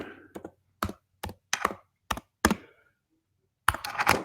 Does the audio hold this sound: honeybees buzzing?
no